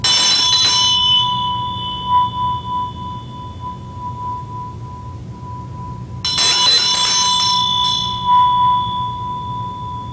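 A practice bell used with a dorje in a ninjutsu tuning exercise rings out clearly twice, each bright strike followed by a long, sustained shimmering ring, with no talk.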